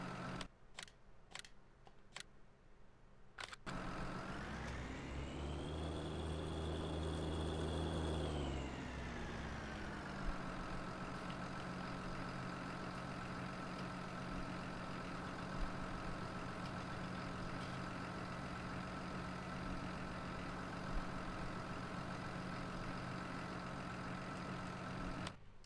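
A dirty tractor's engine in Farming Simulator 19, steady and humming, with a few clicks at the start, then a brief rev that rises and falls before settling back to an even, continuous idle.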